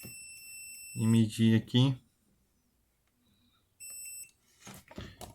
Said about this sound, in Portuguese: Você pode pôr escala de diodo, que ele tem o bipzinho